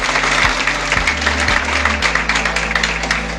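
Applause from a conference audience in Kishtwar, a dense, steady patter of many hands clapping at close range, with low hum beneath and no speech over it.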